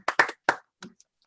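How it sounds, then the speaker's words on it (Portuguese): A few separate claps from participants clapping at home during an online book launch, sounding close and sparse, with a couple of quick hand strikes followed by fainter taps and silence. "Eu acho que a gente pode aplaudir cada um do seu canto"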